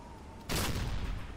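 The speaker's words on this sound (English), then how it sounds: "Another explosion on the deck." Submarine deck gun fire in the video game Silent Hunter III: a single loud blast lands abruptly, then a broad rumbling roar lingers and slowly fades, with no talk over it.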